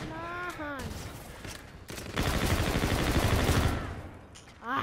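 Gunfire in Call of Duty: Infinite Warfare during a gun game match comes as a loud, continuous burst of rapid shots in the second half, with a voice heard briefly at the start.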